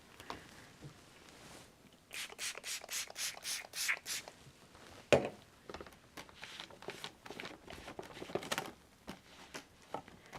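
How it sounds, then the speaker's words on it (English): Stencil wiped clean with a cloth or paper towel after painting a custom plaid: a quick run of soft, rhythmic rubbing strokes, close and fairly quiet, with a sharper scrape midway and no talk. "I'm going to go ahead and clean off this stencil now"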